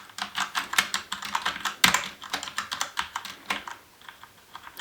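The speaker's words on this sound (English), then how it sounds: "you can just give you a brief sound demo of the MX Browns." Typing on a Corsair K70 Vengeance keyboard with Cherry MX Brown switches, aluminum body and plastic keycaps, a close, quick clatter of individual keystrokes with one louder hit, no talking.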